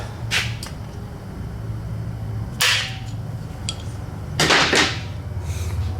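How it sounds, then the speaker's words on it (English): A hammer taps a punch to knock the tang off a helicoil insert in a threaded hole on dirt bike work, giving three sharp metallic strikes spaced a couple of seconds apart over a low hum. "we're going to take the punch, put it in there, tap it, and knock that tang off"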